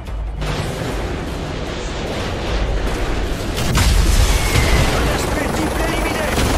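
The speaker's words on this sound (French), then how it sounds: "Frost, établis la liaison avec le Predator et occupe-toi d'eux." Constant roar of battle in Modern Warfare 3, with heavy rumbling blasts and a deep swell building midway as Predator missile strikes hit the New York streets, dense and loud throughout.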